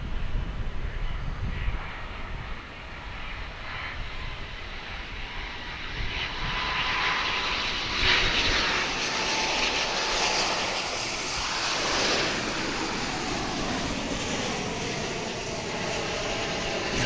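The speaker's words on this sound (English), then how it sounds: "It's an Airbus A319, which dates back to" An Airbus A319 airliner, built in 2003, taking off at DFW International Airport, a broad roaring engine rumble with a high whine that swells and slowly recedes into the distance.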